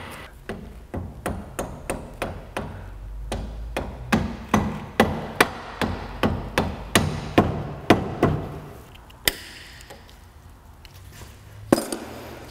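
Brake pin hammered into a Fox Body front brake caliper: a long series of sharp, evenly spaced metallic hammer strikes up close, about twenty blows, thinning out toward the end with a final hit.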